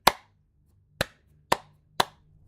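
Four sharp hand claps close to a microphone, spaced about half a second to a second apart, each crisp and percussive over a faint low hum, with no talking.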